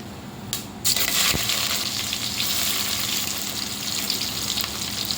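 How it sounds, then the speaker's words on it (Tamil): Sliced onions frying in a pot for Dindigul thalappakatti chicken biryani, a loud close steady sizzle with a sharp clink near the start and a brief stir-like rustle, no talking. "வெங்காயம் நல்லா பொன்னிறமாக வர வரையும் வதக்கி விட்டுக்கலாம்."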